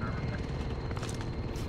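A helicopter coming in during a multiplayer shooter video game, a low rumbling rotor drone underneath constant gameplay noise, with brief higher effects near the end.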